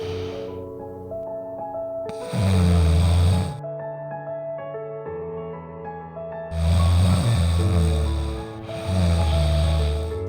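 Heavy snoring alternates with quieter stretches, three loud rasping inhales spread over several seconds under a sustained tonal musical backdrop.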